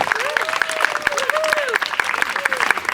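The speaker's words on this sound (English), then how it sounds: "let's give them a big round of applause, please." An audience at a STEM event applauds in a round of clapping that is fairly loud and continuous for about three seconds. Tonal sweeping tones sound alongside it, with no clear speech.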